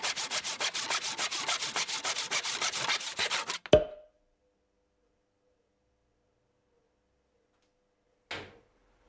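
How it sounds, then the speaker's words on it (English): A hand hacksaw finishes a parting cut on bar stock held in a Colchester lathe with the power off. Quick, even strokes rasp steadily for a few seconds, then a sharp clunk is followed by silence and one later knock. "used a hacksaw to finish the parting cut by hand"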